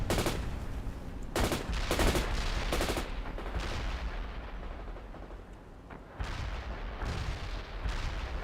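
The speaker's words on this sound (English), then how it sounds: "now I'm just firing RPG-7s at them" Repeated heavy RPG-7 rocket launches and blasts thunder from a World in Conflict battle, several loud broadband bursts in an irregular cluster, then a lull before more impacts rumble in, with no voices.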